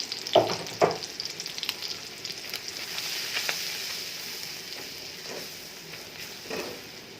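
Shrimp sizzle in a pan with added turmeric and chili, opening with a couple of clattering stirs before settling into a steady close frying hiss with occasional utensil taps.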